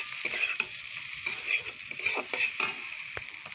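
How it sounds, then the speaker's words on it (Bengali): Fried okra being stirred in a pan with a spatula, scraping strokes at an irregular rhythm over a soft sizzle, close and moderately loud, no voices. "দেওয়ার পর আবারও নাড়বো চাড়বো ভালো করে"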